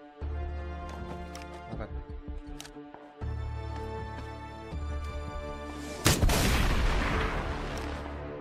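M416 rifle fire in the battle-royale game PUBG, rapid bursts of sharp close shots with brief pauses between them, then a louder blast near the end.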